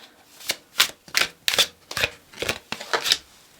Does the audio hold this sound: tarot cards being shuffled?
yes